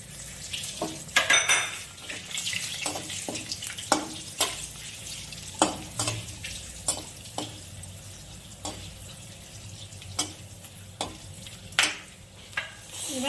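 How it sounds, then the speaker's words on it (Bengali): Bay leaf, dried chili and whole garam masala tempering in hot oil in a pan, a low sizzle punctuated by frequent sharp clinks and scrapes of a spatula against the metal, close and without speech. "তেলের মধ্যে আমি আর অল্প তেল দিয়ে দিচ্ছি এবার ফোড়ন করে নিচ্ছি তেজপাতা শুকনো লঙ্কা গোটা গরম মশলা"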